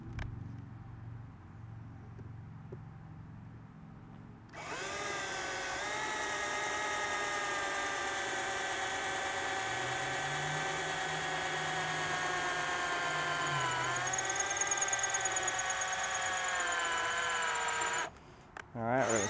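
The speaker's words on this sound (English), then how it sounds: "So we're going to need the power drill for this." A cordless power drill fitted with a 15/64 bit bores straight down through a hole in a DIY tablet camera mount, giving a steady, loud whine that runs for about thirteen seconds after a quiet start and then stops.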